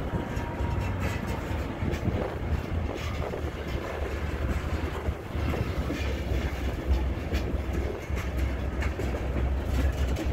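A freight train rolls through a train yard in Charlotte, North Carolina, a loud continuous rumble with a low drone and rattling wagons throughout, buffeted by wind on the microphone.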